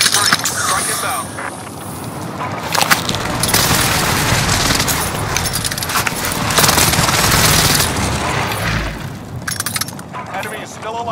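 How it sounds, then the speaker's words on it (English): Call of Duty: Modern Warfare airstrike with booming explosions and rattling gunfire, a loud, dense, continuous barrage that surges in heavy waves for several seconds, with crackling debris and breaking-glass textures throughout. "Found a target for airstrike. This is Phoenix 3. Strike it down."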